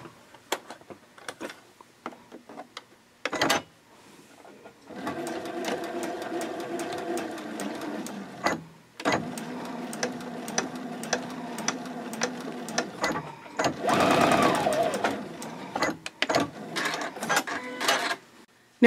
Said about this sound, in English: Then I'll flip it over and sew the other end in place.